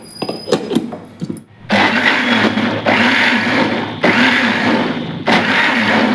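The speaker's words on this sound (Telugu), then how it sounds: "ఇప్పుడు మిక్సీ వేసేస్తాను" A kitchen mixer grinder blending mango with cardamom powder whirs loudly in several bursts, starting and stopping repeatedly after a few knocks and clatters.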